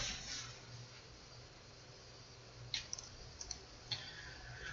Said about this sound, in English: I'm going to double click on the form